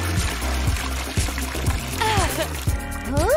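Water pouring into a glass bowl in a short, close trickle and splash, with rising ringing tones as the bowl fills.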